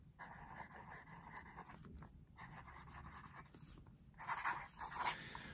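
A Diplomat Nexus fountain pen with a steel nib scratches across paper in short, faint strokes, quiet and close, with slightly louder scratching near the end.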